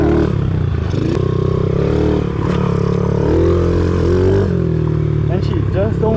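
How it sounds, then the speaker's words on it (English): A Honda CRF50 big bore dirt bike running on jet fuel revs hard and close, its engine note rising and falling continuously with some rattly clatter, while a person talks over it. "She honestly sounds like a freaking little race bike now."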